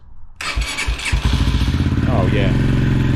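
An AJS motorcycle fires up after a new battery install: a few cranking thumps, then the engine catches and settles into a loud, steady, close idle, with a voice heard at moments.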